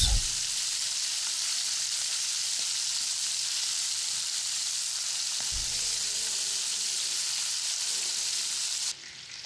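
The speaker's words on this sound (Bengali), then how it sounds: "এ মাছ ভাজা হয়ে গেছে" Fish frying in hot oil: a loud, continuous close sizzle that holds steady throughout, with a low thump midway and a slight drop in level near the end, no talking.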